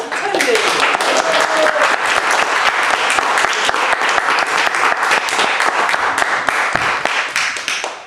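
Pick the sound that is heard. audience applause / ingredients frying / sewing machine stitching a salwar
audience applause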